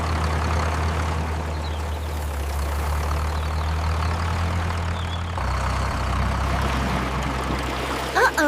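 Cartoon farm tractor engine idling with a steady low rumble, its pitch dropping partway through, alongside a trickling, watery hiss.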